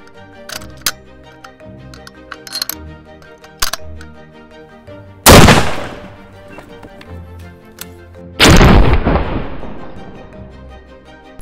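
Two loud, sharp gunshots from a powerful pistol-caliber carbine crack out a few seconds apart, each trailing off in a short echoing decay, with faint clicks and handling noise in between.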